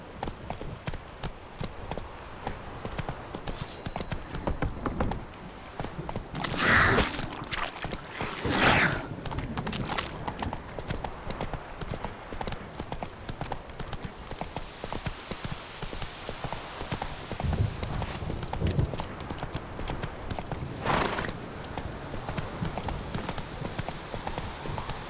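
Hooves of Roach, Geralt's horse in The Witcher 3, clip-clop in a fast steady galloping rhythm throughout, with a few louder whooshing bursts along the way.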